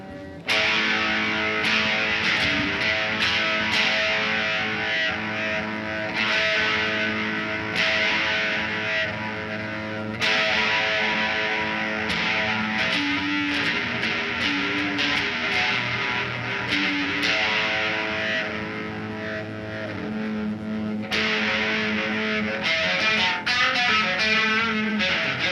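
An electric guitar strummed and picked through a Minifooger Chorus pedal's shimmering, swirling effect, gritty and sustained, playing alone.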